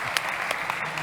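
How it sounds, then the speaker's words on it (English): Brief burst of audience applause at a startup pitch competition, dense steady clapping filling just over a second. "one more time, a big round of applause for Inigo Mendoza"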